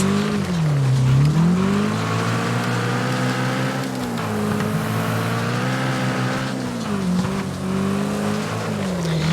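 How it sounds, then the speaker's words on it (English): Race car engines drone and rise and fall in pitch as cars climb a hill in the video game Wreckfest, a loud continuous motor roar with shifting revs. "There's some cars climbing the hill behind us."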